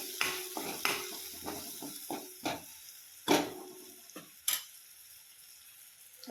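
A spoon stirs turmeric and red chili powder in a frying pan for a village-style moong dal dish, making a close series of scraping strokes and clinks with a soft sizzle between them and no talking.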